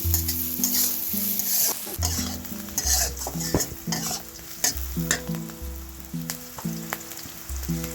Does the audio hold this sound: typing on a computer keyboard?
no